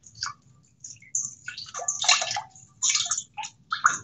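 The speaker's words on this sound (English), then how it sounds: "Third rinse. The water is coming out nice and clear now." Pickled mustard greens get rinsed in a kitchen: water splashes and sloshes in irregular bursts, with soft handling noises, close and moderately quiet.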